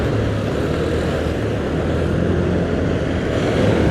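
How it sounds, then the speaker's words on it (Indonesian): Cars speed past on a busy two-way road, heard as a loud, constant roadside rumble and whoosh of traffic with no pauses and no voices. "Ini mobil-mobil pada kenceng-kenceng banget anjir"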